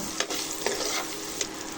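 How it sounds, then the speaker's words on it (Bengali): Eggs fry in hot oil with a turmeric seasoning, giving a steady close sizzle broken by a few sharp spatula stirs and scrapes, with no voices. "ওই তেলে ডিমগুলা ভাজে নিব।"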